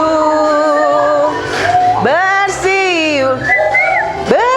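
Several people whistle a sliding, wavering tune together in a classroom group activity, bright pitched whistles rising and bending over a steady background with some voice-like tones mixed in.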